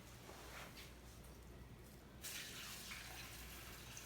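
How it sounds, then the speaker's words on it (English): Kombucha pours into a sealed-tab jar holding fennel, a soft, steady liquid trickle that swells into a fuller, louder pouring rush partway through. "we are going to put our fennel in there, and we are going to start pouring our kombucha."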